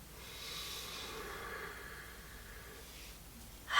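Slow, soft breathing during a beginner yoga session: a long airy inhale through the nose, then a gentle exhale, quiet and close, ending with a brief louder puff.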